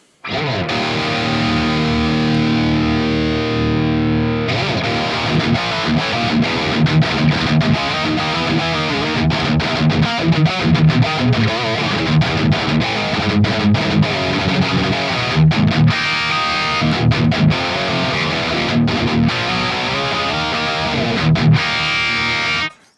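A heavily distorted electric guitar plays a riff through an amp, miked with a ribbon microphone on a V30 speaker, loud and steady, with chugging low notes and ringing overtones throughout.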